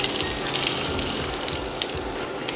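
Ground Italian sausage sizzles in preheated oil in a skillet with a steady, loud hiss and crackle. Scattered sharp pops spit through it from start to finish.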